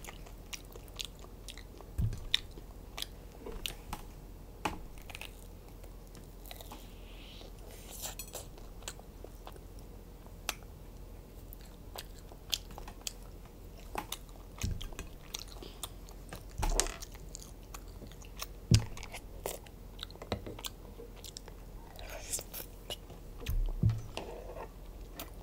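Chewing and biting of hot dogs at close range, with soft crunchy and wet mouth sounds repeating irregularly throughout a quiet stretch.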